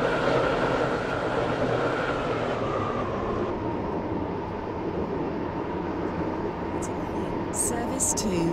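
Train rumble in a Roblox game, rolling steadily into a station, with a constant loud rail drone throughout and a few brief higher clicks near the end.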